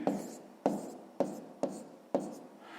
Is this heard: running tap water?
no